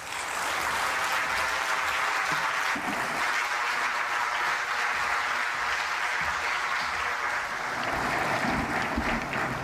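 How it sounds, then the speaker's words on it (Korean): Sustained audience applause fills a forum hall as a visiting professor from New York is welcomed, a steady dense clapping that holds at even loudness throughout with no talk over it. "박수로 맞이하시겠습니다."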